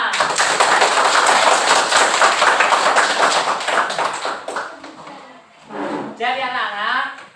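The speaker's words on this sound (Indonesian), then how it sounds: "Tepuk tangan." Classroom applause from a group of students, a dense burst of clapping lasting several seconds before tapering off, followed by a few voices speaking near the end.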